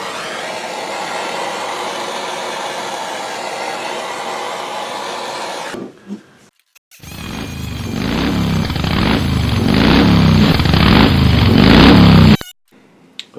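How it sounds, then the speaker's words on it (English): A power sander runs over a wood and epoxy sign, a steady loud whir that cuts out briefly, then returns with a heavier, rougher grinding drone before stopping. "when I run this through the sander real good, that'll sand it all down nice and smooth"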